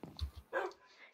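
A Minecraft dog gives a few short, soft barks and a brief whimper, quiet and close, separated by small gaps.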